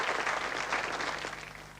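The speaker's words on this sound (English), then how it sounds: "They like applause. They love it." A studio audience at a televised magic show claps warmly for a performer, a thick, even wash of applause from a large crowd that slowly tapers off toward the end.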